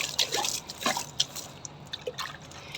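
Water splashes and drips onto potted tulsi plants, arriving in several uneven pours and trickles that sound close and moderately loud, with no voices over them.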